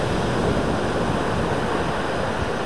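Rough night sea surging onto the shore with no break, a dense, loud roar of surf and churning water, mixed with wind buffeting the microphone.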